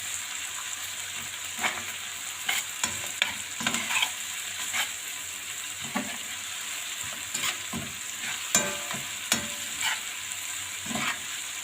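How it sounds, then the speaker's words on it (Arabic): Onions, peppers and spices sizzle softly in a pan while being stirred, with scraping strokes of the spoon clicking and knocking at irregular intervals over a steady background hiss. "لسه بنقلب فيها اهو."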